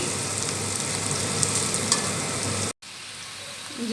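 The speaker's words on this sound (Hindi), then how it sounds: "प्याज देखिए अभी फ्राई हो रहा है।" Onions frying in a pan for restaurant-style biryani give off a dense, steady, close sizzle. The sound cuts out briefly near the end, then comes back slightly quieter.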